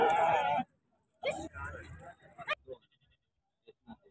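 A goat bleats loudly and close at a livestock market in Taxila, one long cry at the start followed by a shorter wavering call, with someone talking nearby and soft scattered sounds after.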